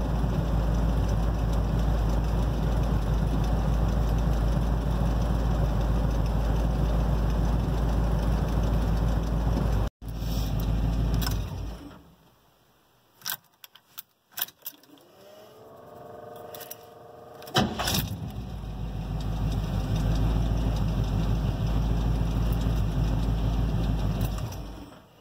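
A 1978 Suburban engine idles roughly and loudly after a cold start at 12 degrees without choke, with a steady throb, then a sharp cut-out and several seconds of near quiet with small clicks before the idle builds back up.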